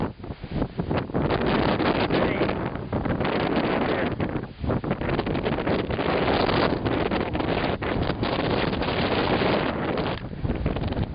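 Strong gusting wind on an exposed mountain cliff ledge, roaring and buffeting the microphone continuously for several seconds, loud and alone with no voices.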